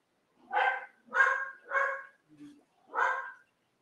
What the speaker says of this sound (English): these dogs are driving me nuts. I don't know what they're barking at